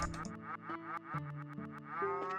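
Repeated cow moos from the video game Trails in the Sky, the same game-style lowing sound looping several times in quick succession over a steady high background tone, close and clear.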